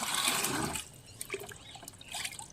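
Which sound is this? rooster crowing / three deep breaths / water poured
water poured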